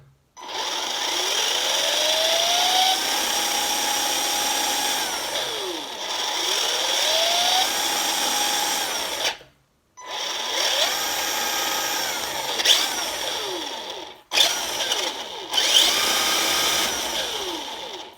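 Electric motor of a Tamiya TT-01 Type E radio-controlled car under throttle, a loud whining buzz that rises and falls in pitch over several bursts, with brief silent gaps between runs and no talking.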